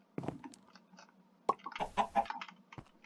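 A Minecraft chicken clucks in several short, soft bursts mixed with faint clicks and taps, fairly close and quiet with gaps of silence between.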